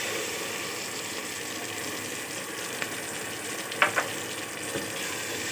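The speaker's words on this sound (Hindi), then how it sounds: "बस इतना सौटे करना है कि इसकी अच्छी खुशबू आने लग जाए अदरक लहसुन की" Ginger, garlic and tomatoes sauté in a pan for masoor dal, making a steady close sizzle throughout, broken by a couple of brief clinks of stirring.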